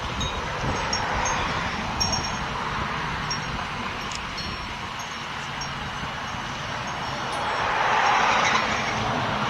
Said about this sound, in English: I wonder how much wind is coming through.